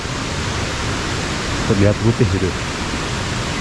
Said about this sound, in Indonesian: Ada banyak sekali air terjun di sini.